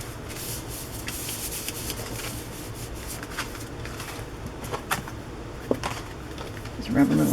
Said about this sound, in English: Just rub a little ink on it.